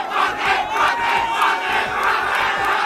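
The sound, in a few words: political supporters cheering and shouting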